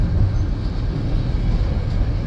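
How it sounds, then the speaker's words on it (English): A Canadian National freight train made up entirely of intermodal cars rolls past at a crossing, giving a steady, loud low rumble throughout with no pauses or distinct clanks. "Very rare to see an all intermodal Canadian National train."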